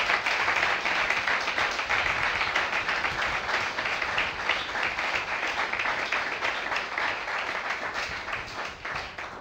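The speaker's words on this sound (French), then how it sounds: "On acclame le Saint-Esprit." A church congregation applauds steadily and loudly throughout, a dense, sustained wash of clapping with no break or fade.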